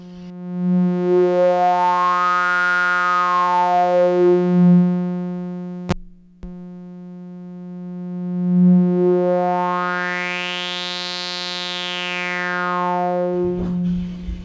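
Threeler VCF eurorack filter with raised resonance, sweeping a bright resonant peak slowly up and down over a steady buzzy tone, with a brief click as the filter mode is switched midway, loud and alone.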